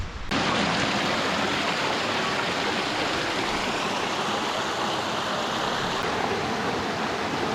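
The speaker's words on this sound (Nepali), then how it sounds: "यो खोलाको कलकलाउँदो यो होइन धुन सुन्दै हिँड्न मजा आउँछ" A gurgling mountain stream in the Troodos hills of Cyprus, near a waterfall, rushes steadily and close by, a dense continuous wash of water with no voices over it.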